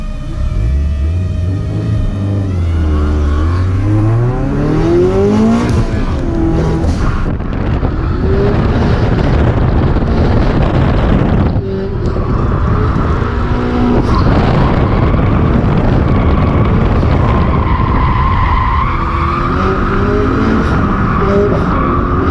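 A turbocharged FRS car drifts, its engine revving hard in rising and falling sweeps with brief tyre-skid noise, loud and close throughout with no break.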